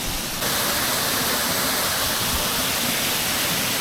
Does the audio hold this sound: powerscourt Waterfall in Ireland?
yes